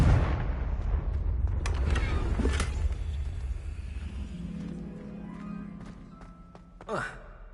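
A fire spell called Confringo explodes in the Hogwarts Legacy video game, a loud burst with a rumbling tail that fades over several seconds, followed by a smaller thump.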